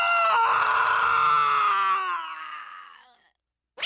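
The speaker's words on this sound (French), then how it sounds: "suivi par des cris terrifiants" Terrifying screams in a horror story, a single long, loud, shrill scream that wavers then fades out over about three seconds, alone and close.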